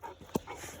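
A dog on a hiking trail pants briefly with quick, close breaths and a short huff in the middle.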